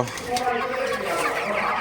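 Broiler chickens cluck steadily inside a warm shed heated by bulbs at night, a dense close flock chatter filling the whole stretch.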